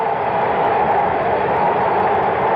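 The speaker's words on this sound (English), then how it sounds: "the new BART train. Transportation system here in the Bay Area has been pulling up beyond the center field bleachers" Steady rumbling roar of a new BART train pulling up beyond the center field bleachers at the Oakland stadium, a continuous loud rail drone with no breaks, heard through a 1974 World Series broadcast.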